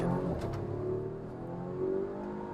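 A Volvo XC60 T8 Recharge plug-in hybrid SUV accelerates hard in first gear without launch control, its engine note rising in a steady strained drone, moderately close and with no talk.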